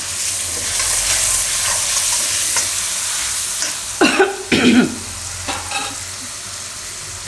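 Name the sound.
rice being stirred and fried in oil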